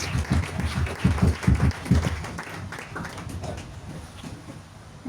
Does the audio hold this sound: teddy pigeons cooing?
no